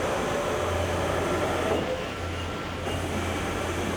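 Trak 3-axis CNC bed mill traversing its x-axis on ball screws driven by servo motors, a steady close mechanical whir and hum with a low tone that drops out briefly as the axis reverses, with no talking.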